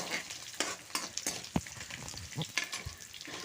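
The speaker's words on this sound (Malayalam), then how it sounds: "അപ്പം നമ്മുടെ ഇഞ്ചിയും വെളുത്തുള്ളിയും കറിവേപ്പിലയും കൂടി ഇട്ട് നന്നായിട്ടൊന്ന് മൂക്ക വഴറ്റിയെടുക്കണം" Ginger, garlic and curry leaves sautéing in hot oil for a lime pickle, a soft crackling fry with frequent stirring scrapes and clatters close by.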